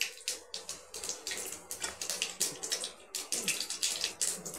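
Spices tempering in hot oil for Odia budha kakudi bhaja, a dense crackling sizzle with repeated bursts of spitting and popping, fairly close and steady throughout.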